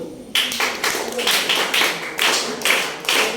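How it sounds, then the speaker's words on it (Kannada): Close, crisp hand claps come in quick uneven bursts, about eight sharp slaps over a few seconds, with no talking, at a parents' meeting in a government school. "ಚಪ್ಪಾಳೆ ತಟ್ಟಿದ್ರೆ ನಿಮ್ಮ ಒಪ್ಪಿಗೆ ಅಂತ ತಿಳ್ಕೋಬಹುದು."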